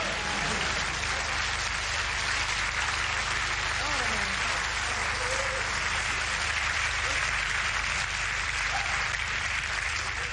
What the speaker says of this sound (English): it frightens me when you clap